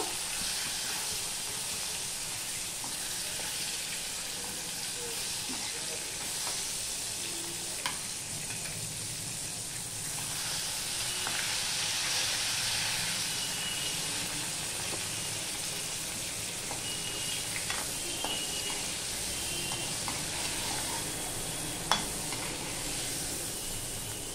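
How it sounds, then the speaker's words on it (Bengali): Prawns frying in a pan of hot oil give a steady, close hiss and sizzle with occasional small pops and crackles, continuous throughout with no talking. "মাছগুলো আমি হালকা করে ভেজে নেব"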